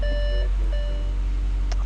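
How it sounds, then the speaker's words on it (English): Repeated electronic warning beeps from a started Audi S4/S5/S6/S7/RS5-type car with the DL501 gearbox, a short tonal chime sounding a few times, close and clear over a steady low hum inside the car. "We're going to wait for the Audi beeps to go away."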